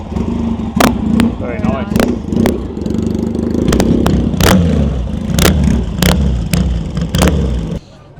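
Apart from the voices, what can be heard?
classic Triumph-night motorcycle being kick-started and revving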